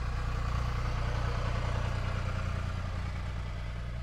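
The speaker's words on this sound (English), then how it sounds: "A tractor just driven by, surprise." A tractor running in the countryside: a steady, fairly loud low engine rumble with a chugging clatter that holds at an even level the whole time, with no voices.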